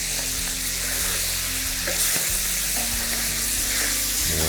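Green beans and garrofó lima beans fry in oil in a wide paella pan for a festive mixed paella, giving a loud continuous sizzle with stirring scrapes partway through.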